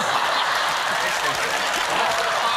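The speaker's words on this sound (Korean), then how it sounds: "사람들이 토마스에게 박수를 치고 있다고요" Studio audience applause for a comedy stage act on a KBS broadcast, a dense continuous wash of many hands clapping at once, loud and steady for the whole stretch with a hint of laughter mixed in.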